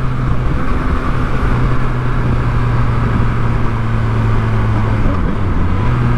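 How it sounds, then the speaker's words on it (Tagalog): A Yamaha MT09 motorcycle on an open-road ride drones steadily under wind rush, its engine note stepping in pitch near the end as the rider downshifts for engine braking. "Downshift para engine braking."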